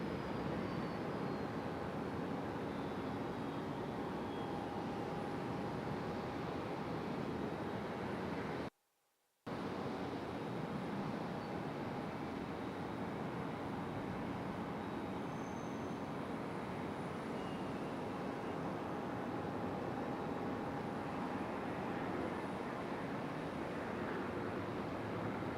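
A Delta Embraer E-175 jet at Raleigh-Durham airport, a broad steady roar of engine noise holding for the whole stretch with a faint whine threading through, distant and unbroken apart from one brief dropout.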